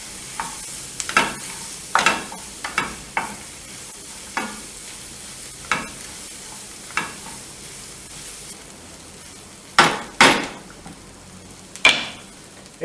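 Lamb and onions frying in a pan, a low background sizzle broken by a dozen or so sharp spoon-on-pan scrapes and knocks at irregular intervals, close and moderately loud, with no talk.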